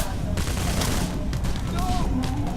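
Rapid video-game gunfire in PAYDAY, a dense fusillade of shots with booming impacts rolling on continuously beneath excited shouting voices.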